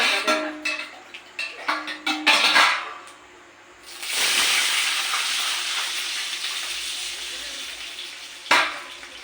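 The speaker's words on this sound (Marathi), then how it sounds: "आता तडका दिला त्याला तेलाला" Tempering spices crackle into a loud, steady sizzle in hot oil after a few clattering handling sounds, continuing for several seconds before a short clink near the end.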